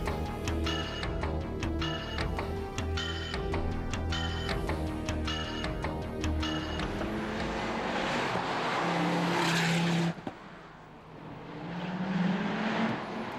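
Ford Focus RS engine revving hard through the gears with a rhythmic rising and falling tone, followed by a broad rushing burst of tire noise and a short squeal, loud and close.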